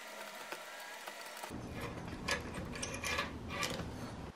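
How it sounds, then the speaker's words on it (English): Screwdriver unscrewing a mini bike throttle cable, faint close metallic scraping and small ratcheting clicks in irregular bursts over quiet background noise, with no talking. "Now just unscrew the cable."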